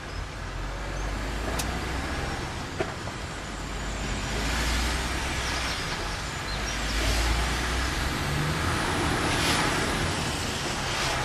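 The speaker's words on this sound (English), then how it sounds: "Plus a bit of wheel spin as well" A car pulls away with a brief bit of wheel spin, its engine a steady low rumble over broadband road and tyre noise that swells in a couple of surges across the clip, with no talk.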